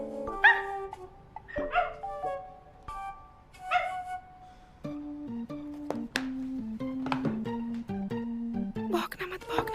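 A dog gives short yips and barks with a few whimpering tones, scattered and fairly close, while people talk around it.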